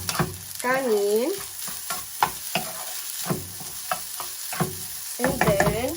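Garlic fries with rice over lowered heat in a pan for crab-meat Japanese chahan, a soft steady sizzle broken by repeated spatula stirs and scrapes, some with squeaky strokes, with no voices.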